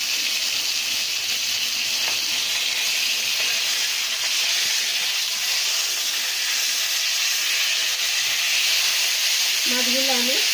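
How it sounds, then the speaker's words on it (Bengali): Vetki fish frying lightly in a pan in a village kitchen, giving a steady, loud broadband sizzle and hiss throughout, with a brief voice near the end. "মাছগুলো আমি সবগুলো মাছ এইভাবে আমি ভেজে নেব হালকা করে।"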